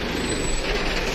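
A truck's engine drones steadily and loudly close by, a broad continuous rumble with no break and no voices.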